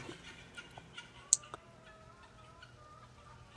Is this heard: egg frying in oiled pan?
no